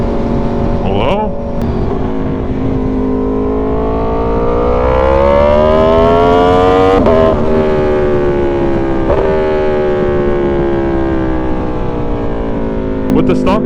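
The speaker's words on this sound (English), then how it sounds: "I'm really hoping my external mic can pick up the absolute symphony coming from this engine." An Aprilia Tuono V4 motorcycle engine with an aftermarket exhaust drones loudly up close while riding on a slow road, its pitch rising and falling with throttle changes and short gear-shift dips.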